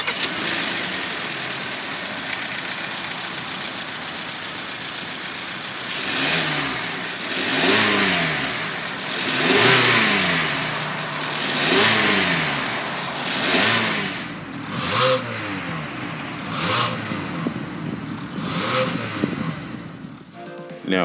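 A 2019 Hyundai Santa Fe's inline four-cylinder engine, rated at 185 horsepower at 6,000 rpm, idles steadily, then revs repeatedly in rising and falling sweeps, heard up close and alone.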